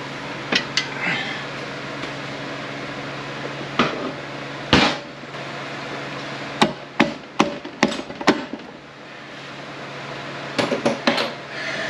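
Metal strikes ring out irregularly as a bushing is knocked out of a TH400 transmission case in a shop. Sharp hammer-like taps come singly and in quick clusters over a steady low hum.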